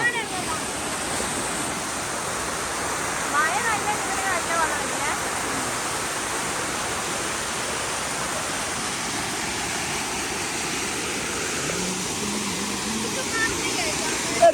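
A waterfall roars in a steady, dense rush of falling water, loud and close, with voices faintly audible under it.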